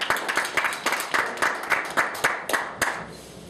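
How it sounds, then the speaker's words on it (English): Audience applause at a Toastmasters meeting: a burst of hand clapping with distinct rhythmic peaks that thins out toward the end, moderately close and alone without talk. "Let's give a big round of applause for Alan Edge."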